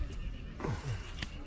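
A horse whinnies briefly at a camp in Kashmir, a short descending neigh in the middle of the sound, with people talking nearby and background noise throughout.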